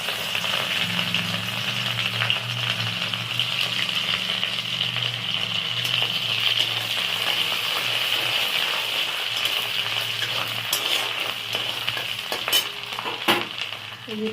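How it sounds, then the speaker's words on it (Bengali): Chopped ginger and garlic sizzle steadily in hot oil for a chili chicken dish, a close, continuous frying hiss with occasional stirring clatter. "এই যে এবার ওই তেলের মধ্যে এই আদা কুচি আর রসুন কুচিটা দিয়ে দিচ্ছি।"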